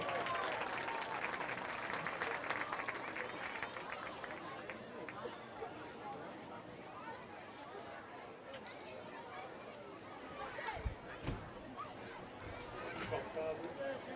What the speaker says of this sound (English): let's give these young ladies a big round of applause